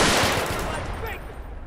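Automatic fire from an FN F2000 in a multiplayer GTA match, a rapid burst of loud gunshots at the start that fades into a decaying echo over less than two seconds.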